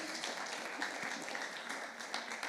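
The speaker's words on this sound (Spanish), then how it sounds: "Un aplauso para Multimedia que nos ha preparado este Menti" A forum audience at a Pride event gives a brief, faint round of applause, steady scattered clapping heard from a distance for a couple of seconds.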